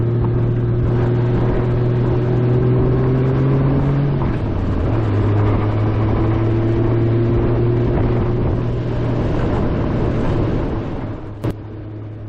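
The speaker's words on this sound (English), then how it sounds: "Not a bad gravel road bike so far." A 1992 Honda Goldwing GL1500 Aspencade motorcycle cruising on a gravel road, its engine holding a steady hum that dips briefly as it eases off, with broad road and wind noise throughout and a short click near the end.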